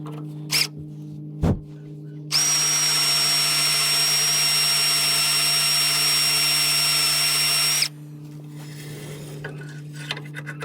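A couple of sharp knocks, then a power drill boring a hole in wood whines steadily for about five seconds before stopping, with a constant low hum throughout.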